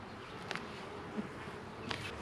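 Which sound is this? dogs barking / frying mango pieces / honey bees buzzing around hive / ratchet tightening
honey bees buzzing around hive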